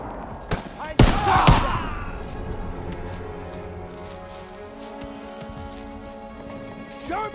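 Gunfire in Call of Duty WW2, a couple of sharp loud shots early on, then scattered crackling fire and battle clatter fading under a sustained rumbling backdrop.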